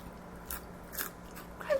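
Three or four quick, crisp bites into crunchy lemon-flavored fries, close and fairly quiet, spaced about half a second apart, the last one sharpest, with no talking.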